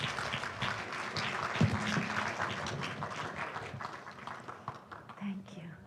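An audience in a lecture hall gives a speaker a warm welcome with steady applause that gradually thins out, and a few murmured voices mix in near the end.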